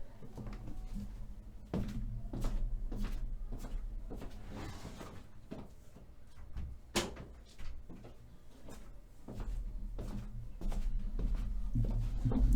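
An indoor door is pushed shut amid a series of knocks, bumps and shuffling movements, with one sharp close standing out near the middle; the handling noises come close and fairly loud, with no speech.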